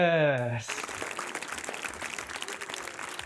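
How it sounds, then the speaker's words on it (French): A family claps after a Tabata workout session, steady dense applause filling most of the moment after a brief sung or shouted tone at the start. "on peut venir s'applaudir la famille"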